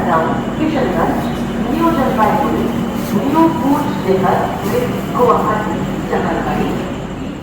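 A passenger express train halted at New Farakka station at night, a steady low rumble of the stopped train under continuous nearby chatter of people aboard.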